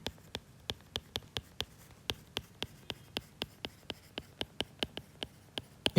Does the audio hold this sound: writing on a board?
yes